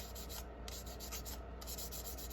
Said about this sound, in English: everything sanded down real smooth on this